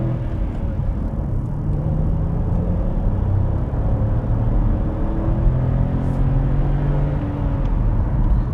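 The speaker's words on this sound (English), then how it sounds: "The engine does get a bit wheezy as you approach the red line" A 2021 Hyundai Kona N Line engine drones steadily from inside the cabin, a constant loud rumble that builds and strains as revs climb toward the red line, with no talking.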